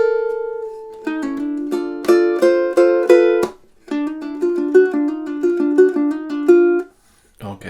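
A ukulele plays three measures of the Goosebumps theme: a held opening note, then a run of bright plucked notes in a steady rhythm, a short pause, and another plucked phrase ending on a ringing note.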